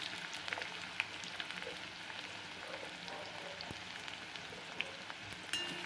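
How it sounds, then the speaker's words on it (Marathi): Long-sliced onion frying in a pan of oil for chicken biryani gives a faint, continuous sizzle with scattered small crackles and pops, steady and quiet throughout. "कांदा भाजून घेऊया"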